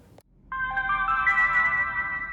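Exit chime from a DDPAI Mini dashcam as it powers off, a short sustained electronic tone with layered harmonics lasting about two seconds, heard alone after a faint click.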